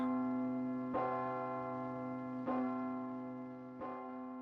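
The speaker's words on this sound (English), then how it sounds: "Then you get the bells ringing again." Church bells ring at the Liberty Films opening of It's a Wonderful Life: three loud strikes about a second and a half apart, each followed by a long, rich ringing hum that fades slowly.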